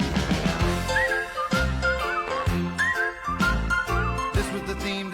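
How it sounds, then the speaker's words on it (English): Someone whistles a melody along with the theme music of It's Garry Shandling's Show, the bright whistled tune rising over a steady, loud musical backing throughout. "We're almost to the part of where I start to whistle."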